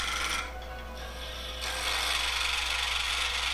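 A gouge cuts a wooden pipe stummel spinning on a lathe, producing a close, continuous rasping scrape that eases briefly and then grows louder again over a steady motor hum.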